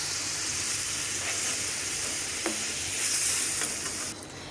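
Fried chanda fish going into a pan of sizzling gravy for a Bengali bhuna, a steady broad hiss throughout with a faint soft clunk midway, ending in a slight drop in level.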